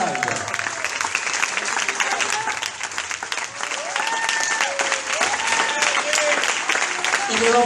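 A crowd at a tango milonga tribute to an honoured dancer gives loud, sustained applause, with dense clapping throughout and scattered voices and cheers rising over it.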